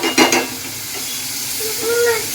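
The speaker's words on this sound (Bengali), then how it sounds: "চিকেনটা একটু কষতে থাক" Chicken sautés in a thin gravy in a home kitchen pan, a soft sizzle with a few spoon scrapes and knocks at the start, followed by a continuous gentle hiss.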